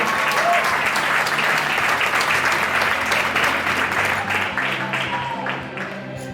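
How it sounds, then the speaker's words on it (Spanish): Warm, sustained clapping from spectators greeting a player at a women's all-star table football game in Lugo, loud at first and gradually thinning toward the close, with some faint voices underneath. "do Carballero, forte aplauso."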